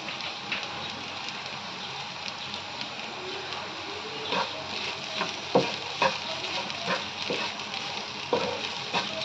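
Okra masala bhaji with freshly grated coconut being stirred in a pan, a steady soft sizzle with scattered scraping clicks of the spoon, close and alone.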